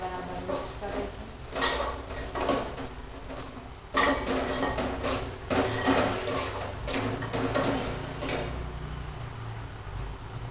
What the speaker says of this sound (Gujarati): આપણે બરાબર મિક્સ કરીશું.